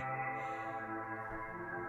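Sustained tones are processed with reverb turned fully up, giving a smeared, washed-out sound with long ringing tails and no clear attacks, heard alone at moderate level.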